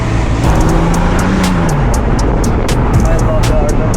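RWB-built Porsche 911 Turbo driven on Japanese mountain touge roads, with a steady engine drone heard from inside the car and a voice faintly present beneath it.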